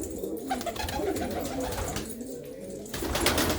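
Pigeons in a fancier's loft coo softly in low, throaty repeated calls, fairly close against a busy background.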